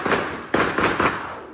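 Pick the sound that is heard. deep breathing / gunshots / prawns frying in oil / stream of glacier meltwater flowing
gunshots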